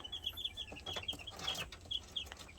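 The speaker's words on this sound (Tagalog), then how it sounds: "So ito yung mga sisiw sana natin na palahi na manok panabong." Newly hatched chicks of a fighting rooster breed cheep in quick, high repeated peeps, close and fairly clear, with a soft rustle underneath.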